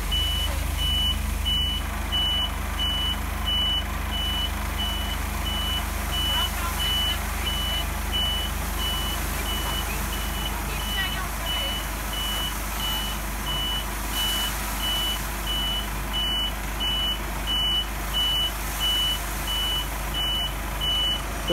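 A big truck reverses on a farm, its backup alarm beeping steadily in a regular rhythm over a constant low engine drone throughout.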